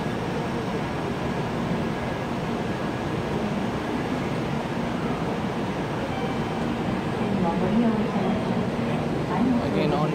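A Japanese Shinkansen bullet train runs with a steady low rumble and whooshing rail noise, loud and continuous throughout, rising slightly near the end.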